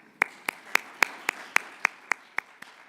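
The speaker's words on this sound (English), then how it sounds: "let's give them a round of applause." A single person claps slowly and evenly, about ten distinct sharp claps at a steady rhythm, close and clear, at a heart health education event as volunteers and staff are acknowledged.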